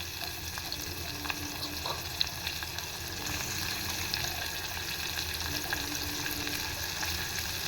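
Dried, washed Bombay duck fish fry gently in oil on a low flame, a steady faint sizzle with occasional soft stirring taps.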